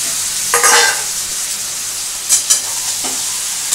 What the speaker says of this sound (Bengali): এটাকে আমি এখন ভালো করে ভাজছি।